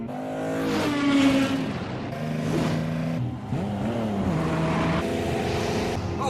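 A Nissan Z sports car engine, the so-called cursed Z, revs hard in repeated bursts, its pitch climbing and dropping as the throttle is blipped, loud and close with brief dips between pulls.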